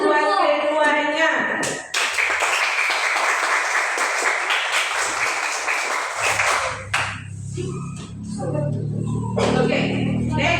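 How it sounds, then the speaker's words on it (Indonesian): A classroom group claps in applause for two people, a dense burst of clapping from about two seconds to seven seconds, with talk before it and a few scattered claps and voices afterward. "Tepuk tangan buat keduanya."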